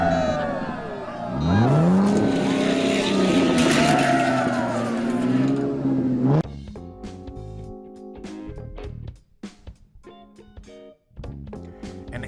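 Quantum diecast toy cars race on a track with a loud engine roar that rises and sweeps for several seconds, then cuts off, leaving tonal music and sharp clicks.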